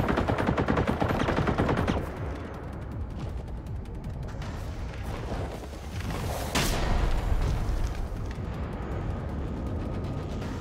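Gunfire aimed at the player in the Generation Zero video game: dense, sustained shots in rapid bursts, loudest over the first two seconds, then continuing steadily with a sharp crack near the middle.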